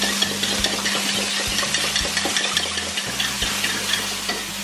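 Eggs scrambling in a frying pan, a steady close sizzle with light scraping and stirring throughout, no talking.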